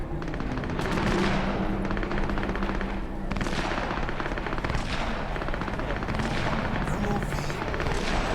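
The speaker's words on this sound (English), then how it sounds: "Nobody gonna acknowledge the gunfire that's going on around us." Cyberpunk 2077 gunfire rattles in sustained bursts, with automatic fire and booms spread through a busy battle din and speech mixed in.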